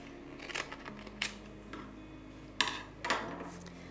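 Scissors cut a printed sublimation ornament design out of paper, giving four sharp, close snips spaced apart over a quiet background hum.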